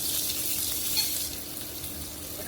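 Onion and garlic fry in hot oil with a continuous close crackling sizzle, fairly loud and steady, with slight stirring movement underneath.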